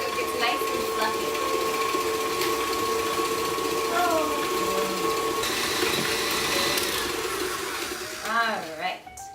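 Electric stand mixer running on high, creaming butter and brown sugar for a spice cake, a steady mechanical whir with a constant motor tone, then a brief voice near the end as it winds down.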